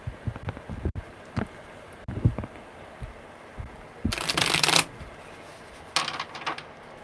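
Tarot cards are shuffled during a live reading, giving a few soft papery riffles and taps followed by a louder burst of rapid card flutter, then a shorter flurry near the end.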